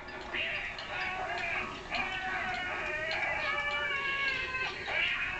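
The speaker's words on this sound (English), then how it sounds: "they're screeching like cats" Giant rats in the horror film Food of the Gods shriek with cat-like yowls and caterwauls, a continuous run of overlapping high wavering screeches that holds steady throughout.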